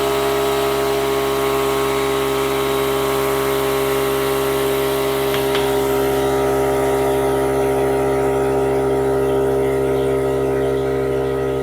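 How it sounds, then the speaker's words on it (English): A VEVOR 6-gallon air compressor pump runs continuously, a loud, steady mechanical drone with a strong buzzing hum, close and unbroken from start to finish. "So this has got quite the pump on it."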